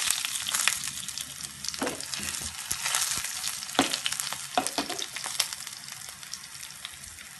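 Mustard seeds, cumin, fenugreek, crushed garlic and dried red chilies crackle and fry in hot oil for an Andhra tomato dal tempering, a steady close sizzle broken by sharp pops and occasional stirring.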